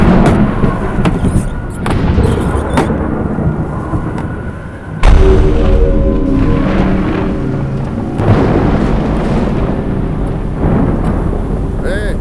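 A thunder and lightning sound effect: heavy rolling rumbles and crackling bursts fill the whole stretch, with a sudden loud crash about midway followed by sustained booming and a softer rumbling tail.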